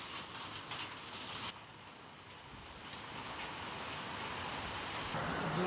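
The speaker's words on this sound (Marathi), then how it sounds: "जुनोनी तालुका सांगोलामध्ये पाऊस चालू" Unseasonal April rain falls in Junoni, Sangola taluka, Maharashtra, a dense continuous hiss of drops striking surfaces that holds steady and swells slightly toward the end.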